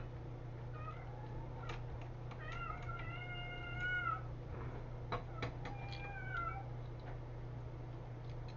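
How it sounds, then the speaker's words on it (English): A house cat meows repeatedly in a home kitchen during supper preparation, several drawn-out, rising cries clustered near the middle and end, fairly close and clear over a steady low hum, with no talking. "Oh, don't start, cat."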